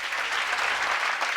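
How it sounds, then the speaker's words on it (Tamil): An indoor audience at a Tamil debate show applauds, a steady burst of clapping that fills the whole moment. "நல்லா கைத்தட்டு கொடுங்க."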